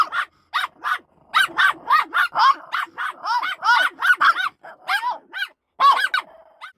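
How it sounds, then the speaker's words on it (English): A dog barks repeatedly in quick bursts, close and loud, mixed with growls and yips, at a snowed-in off-grid tiny house. "You was barking."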